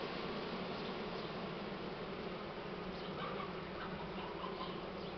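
Honey bees hum in a dense, steady swarm during a honey harvest, a continuous close buzzing drone with no voices over it.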